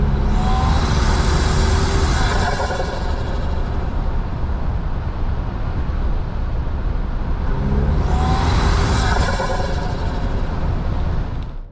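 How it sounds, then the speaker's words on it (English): A 2025 Toyota Tacoma Hybrid Trailhunter fitted with a snorkel pulls hard under a loud, rushing turbo intake roar, with two hissing blow-off bursts near the start and later on. "you can hear the turbocharger sucking in air and the blow-off valve going off"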